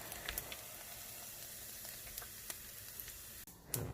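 A pork cutlet fries in oil with a soft, continuous crackling sizzle, quiet and close, and a brief clunk near the end.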